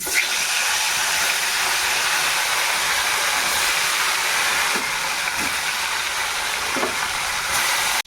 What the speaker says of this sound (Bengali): এবার মাছগুলো এই তেলের মধ্যে এই যে ছেড়ে দিচ্ছি